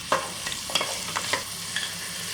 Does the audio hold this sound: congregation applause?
no